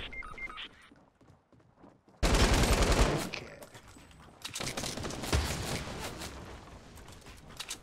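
Bursts of rapid gunfire in Fortnite crackle loudly in dense fusillades, with quieter stretches between volleys and faint game sounds underneath.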